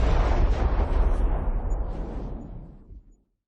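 An explosion sound effect: a loud, deep rumbling blast that sustains and slowly fades out over about three seconds, with no other sounds.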